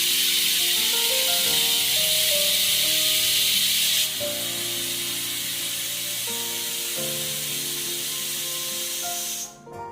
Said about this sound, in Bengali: আর একদিকে সিটি পড়ে গেল প্রেশার কুকারে।